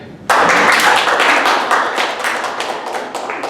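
Sudden loud clapping breaks out from a stand-up comedy audience, a dense burst of hand claps that carries on with slight swells and dips for a few seconds.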